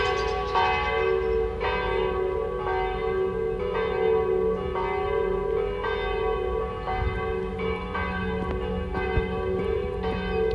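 Church bells peal continuously with overlapping rich tones, a steady ringing that fills the air without pause.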